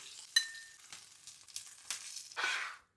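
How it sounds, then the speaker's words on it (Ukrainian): Chicken frying in a pan while onion and pepper are about to be added for a chicken stew, with soft sizzling, scattered crackles and stirring clatter, ending in a louder burst of sizzle. "Курочка з другої сторони підсмажилася"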